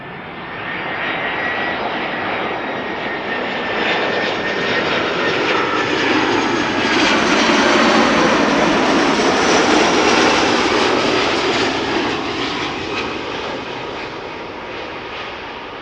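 EasyJet Airbus A319 jet engines roaring at Amsterdam Schiphol, a loud continuous broadband rumble and whine that swells steadily toward the middle as the airliner passes, then slowly eases off, with no voices.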